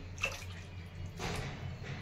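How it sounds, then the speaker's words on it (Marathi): Water poured into a cooking pan of cooked toor and masoor dal for Maharashtrian chakolya gives a steady close splashing rush, with a brief burst at the start and a stronger surge partway through, and no talking. "आता मी यामध्ये पाणी टाकून घेते,"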